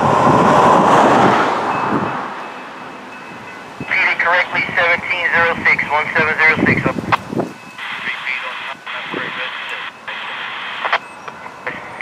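FEC206, a Florida East Coast freight train carrying rock, rolls past with a low rumbling roar that gives way to clattering wagons. A radio-like voice talks over much of it, with scattered clanks.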